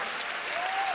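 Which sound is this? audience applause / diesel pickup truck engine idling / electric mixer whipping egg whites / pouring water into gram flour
audience applause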